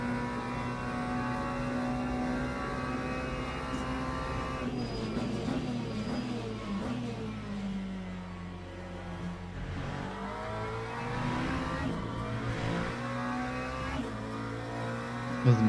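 McLaren GT3 race car engine in the Le Mans Ultimate racing game, droning steadily and rising and falling through revs and gear changes, moderately loud with no voices.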